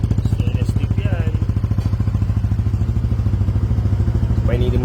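Motorcycle fitted with a stainless steel exhaust pipe idles and revs up close by, a steady rapid thumping beat with clatter and someone talking over it.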